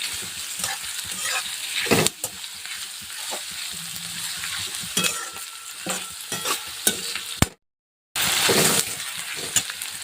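Chopped onions for kanda poha fry in a pan with a steady broadband sizzle, broken by scraping stirs and a brief drop to silence near the end before the frying resumes; no one talks.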